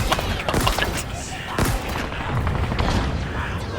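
A grenade explodes in the Halo Infinite video game, with a dull booming blast and rumbling thuds in a busy, continuous game mix.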